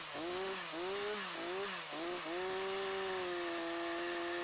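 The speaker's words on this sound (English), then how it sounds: "let's also see if it can be used for Alaskan chainsaw milling of a Douglas tree." Stihl MS362 chainsaw on an Alaskan mill cutting a Douglas tree, the engine rising and dipping in pitch several times before holding a steady loud whine as the cut continues.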